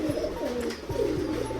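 Pet pigeons coo softly and continuously as they come down from their cage into a room, a low rolling murmur heard alone at modest volume.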